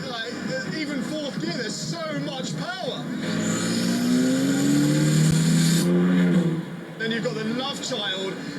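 Ariel Atom 4R engine pulling hard under turbo boost in fourth gear, a loud rising roar that swells and holds before dropping off, with a driver talking over it.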